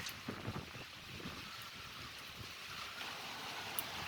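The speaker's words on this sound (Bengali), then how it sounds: "এত পরিমাণ বাতাস হচ্ছে" Strong cyclone wind blows in a steady, faint rushing hiss with slight gusting, heard alone without voices.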